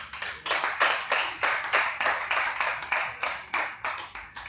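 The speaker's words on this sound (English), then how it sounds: "Please clap for yourself." Graduates of a UI/UX and graphic design training clap for themselves at a completion ceremony: rhythmic, fairly close handclapping from a small group, pulsing in steady bursts with no talk.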